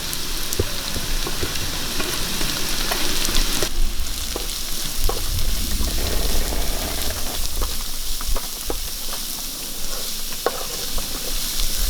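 Chopped carrot and cabbage stir-frying in a hot pan for prawn fried rice, a loud, dense, continuous sizzle with scattered clicks and scrapes of stirring throughout.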